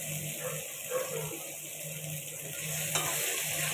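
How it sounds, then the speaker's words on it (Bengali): Mixed vegetables with salt frying in a covered pan, a steady close sizzle and hiss with faint bubbling, brief clinks and a sharp tap near the end. "সবজিটা হালকা ভাজা হয়েছে।"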